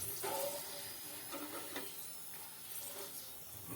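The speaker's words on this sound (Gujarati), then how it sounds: "તો આ રીતે થોડી વાર માટે તેને તળાવવા દેવાના" Potato kurkure snacks frying in hot oil give a soft, steady bubbling sizzle with no voices over it.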